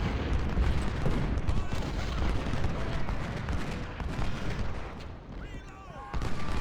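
Cannon and artillery fire in the Civil War strategy game Ultimate General at the Battle of Chickamauga, a continuous rumble of booms and distant gunfire laid over a dense battle din.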